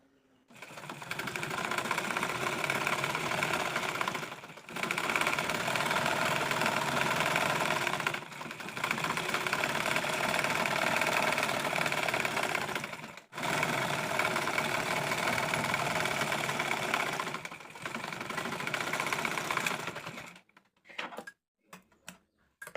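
A sewing machine stitches elastic onto a midi dress in long steady runs of rapid mechanical whirring, close and loud, broken by brief stops, then a few short clicks and taps at the end.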